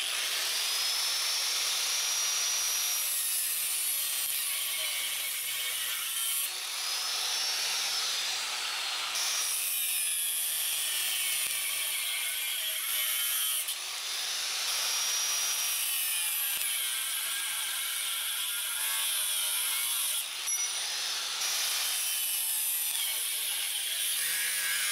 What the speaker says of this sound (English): Now I'm going to use my angle grinder and cut it to size.